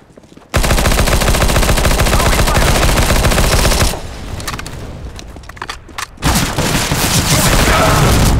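Loud, dense bursts of automatic gunfire and a blast in Counter-Strike: Global Offensive, with a sustained barrage that drops into quieter scattered shots and footsteps before heavy firing resumes.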